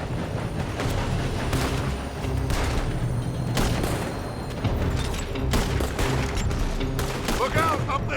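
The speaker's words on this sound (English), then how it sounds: "They're shooting from that building." Gunfire crackles in a Red Dead Redemption 2 shootout against Leviticus Cornwall's men, repeated sharp shots and bursts rapidly overlapping with booming impacts, alongside in-game voices shouting.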